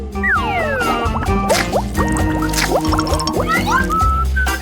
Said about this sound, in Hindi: केकड़े को गर्म पानी में डुबोना होगा।